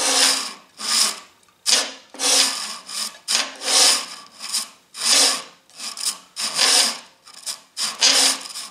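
A 12-inch disc sander with quill runout grinds against wood in repeated short strokes, producing about a dozen rough, scraping bursts with brief gaps between them. The sound is fairly close and carries no speech.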